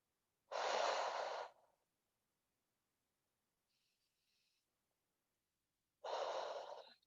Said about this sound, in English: We'll take 2 more deep breaths.